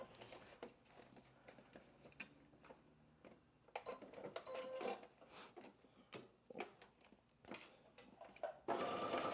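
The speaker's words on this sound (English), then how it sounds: "I'm going to sew that all the way across that shoulder seam as well" A sewing machine working along a shoulder seam of a McCall's 8386 top gives quiet, uneven bursts of stitching mixed with handling clicks and fabric rustle, ending in a louder run.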